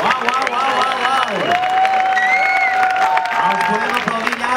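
A crowd at an outdoor swing dance show in Plaça Catalunya applauds the swing group Shakin' All, clapping and cheering under a sustained whistle-like tone, with a voice talking over the noise.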